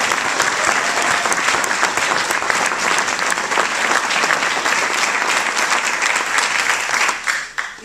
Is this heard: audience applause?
yes